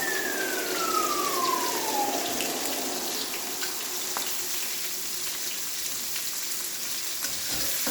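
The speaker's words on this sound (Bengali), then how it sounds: "অনিয়নটাকে আমি লাল লাল করে ভেজে নেব।" Onion frying in oil with panch phoron spices hisses in a steady, moderate sizzle throughout, with a faint falling whine in the background early on and no speech.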